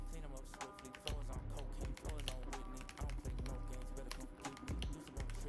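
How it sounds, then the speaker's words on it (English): Typing on a Higround Snowstone Base 65 mechanical keyboard, a hot-swappable board with an aluminum plate and silicone dampening foam: a steady run of close, crisp key clacks with a fuller thock underneath, continuous and fairly quiet. "This is the Snowstone Base 65 mechanical keyboard, hands down one of the best keyboard I've ever had to use."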